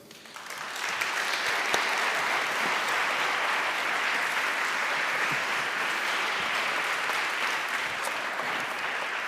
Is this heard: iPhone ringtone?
no